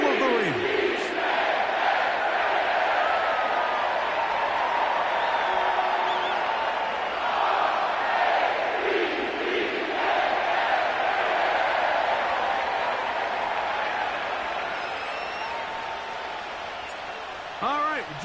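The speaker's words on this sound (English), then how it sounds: "The crowd is definitely ready" A stadium crowd at M&T Bank Stadium in Baltimore roars and cheers steadily in Madden 25 on PS5, a dense sustained swell of voices that fades slightly toward the end.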